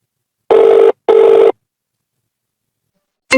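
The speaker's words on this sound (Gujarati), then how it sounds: "ફોન લગાય સૂર્યાને સાંભળતો નથી" Telephone ringing in a comedy movie scene: two loud, identical electronic ring bursts about half a second each separated by a short gap, then silence before a third tone starts at the very end.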